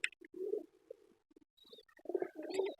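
Soft, low cooing pigeons in a few scattered bursts, with quiet pauses between and a faint higher chirp now and then.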